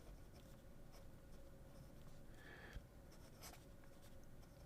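Fountain pen with a Fude nib scratching across paper, soft continuous strokes with faint scraping detail, quiet and close against a low background hiss.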